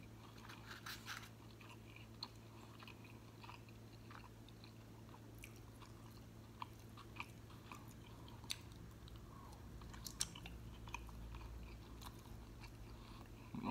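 Tacos and quesadillas with spicy Mexican sauce being eaten up close, faint crunchy bites and soft chewing in scattered clicks over a quiet room.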